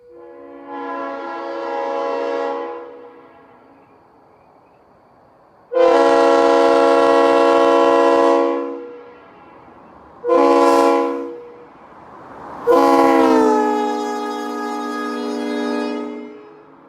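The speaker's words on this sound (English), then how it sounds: "The locomotive also retained its New York Central Leslie S3L." A GP40-2 diesel locomotive sounds its New York Central Leslie S3L air horn in four loud, close blasts, long, long, short, then long, each a rich chord with quiet gaps between.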